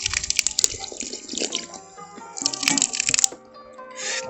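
A small public fountain in Portugal splashes and trickles close by in irregular spurts, with dripping and clattering water sounds and no talking.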